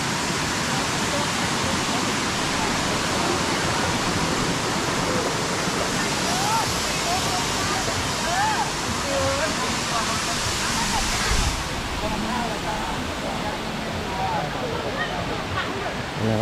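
Kuang Si waterfall in Laos roars as a steady, loud broadband rush of falling water throughout, with faint voices and birdlike chirps mixed underneath.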